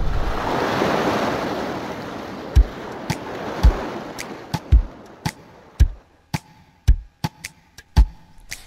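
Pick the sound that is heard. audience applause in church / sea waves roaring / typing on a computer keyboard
sea waves roaring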